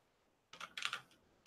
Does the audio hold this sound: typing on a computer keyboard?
yes